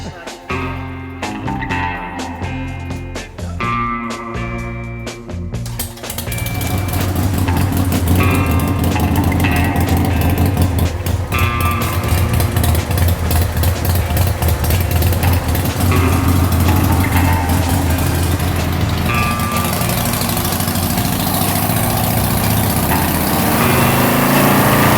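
A big bore nitrous Harley-Davidson Sportster with wide open pipes fires up after a few seconds and settles into a loud, steady, rumbling run, with some faint talking at the start.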